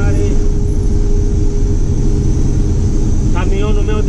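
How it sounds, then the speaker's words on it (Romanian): A truck cab ventilation fan roars loudly and steadily inside the cab of a parked truck in New Zealand, and a voice comes in briefly over the drone near the end. "Iar o început fenul ăsta."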